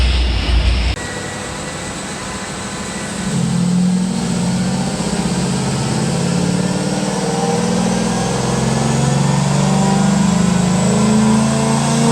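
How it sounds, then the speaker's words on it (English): A car engine idles and runs steadily somewhere nearby in a garage where a C5 Corvette Z06 is being tuned, a continuous low hum that swells slightly after a few seconds and holds, with no talk over it. "I have no idea what car is running over there."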